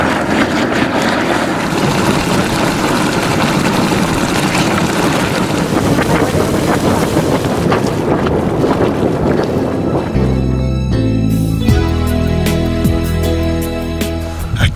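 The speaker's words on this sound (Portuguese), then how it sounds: "Há também jatos de vapor" Steam jets venting hard at a geyser field, a loud continuous roaring hiss that changes into a steadier, more tonal rush partway through, no talking.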